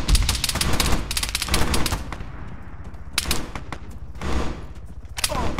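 Rapid bursts of automatic gunfire from the military video game Arma 3, loud and close, firing in repeated volleys with short pauses between them and a few single shots near the end.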